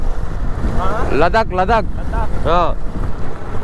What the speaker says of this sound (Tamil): ஏன்னா ஆப்போசிட்ல இப்படி அடிக்குது காற்று